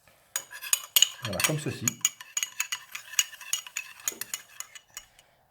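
A spoon clinks and taps rapidly against a bowl while a rouille mixture with Espelette pepper and a little water is stirred, with a brief spoken remark partway through.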